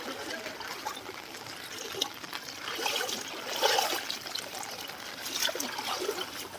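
Floodwater running through a village lane after heavy rain, next to an overflowing pond: a steady trickling, rushing flow that swells and eases, heard close and moderately soft.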